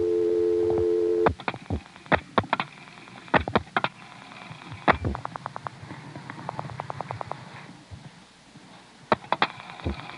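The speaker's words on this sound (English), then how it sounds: "You can hear the register sender dialing 60" A register sender in a 1973 step-by-step telephone exchange dials out over a wire trunk to Dale City, Virginia: a steady tone gives way to bursts of rapid clicking pulses and relay clacks, fairly loud and with no talk.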